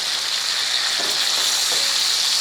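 Ham browning in a pan for Southern red-eye gravy, a steady close hiss of frying fat and sizzle running throughout, with a few faint stirring scrapes partway through.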